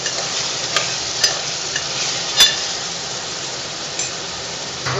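Potato pieces frying in hot oil with coriander leaves, a bright, steady close-up sizzle broken by a few sharp clicks and knocks of a utensil against the pan.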